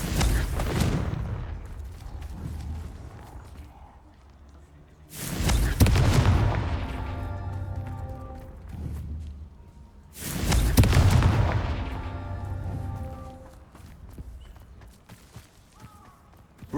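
Three loud Confringo blasting-spell explosions from Hogwarts Legacy land about five seconds apart, each one a sharp booming impact that fades into a rumbling tail, with quieter game sounds between them.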